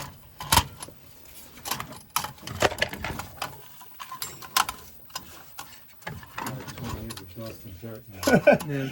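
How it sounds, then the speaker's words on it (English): Small plastic wire connectors being twisted and pulled off the wires of a Peerless gas boiler's aquastat relay, giving scattered close clicks, scrapes and rattles among light handling noise, with someone talking intermittently. "Just loosen that up and pull the wire out. Take off the wire connector."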